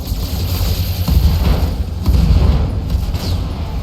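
Weapon fire and explosions from a mech battle in the video game BattleTech, a continuous barrage of heavy booms and rumbling blasts at loud, steady intensity.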